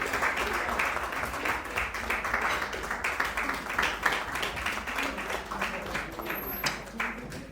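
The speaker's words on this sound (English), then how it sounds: "So please, a bigger round of applause for you." An audience at a book launch claps warmly and steadily, with a murmur of voices mixed into the applause throughout.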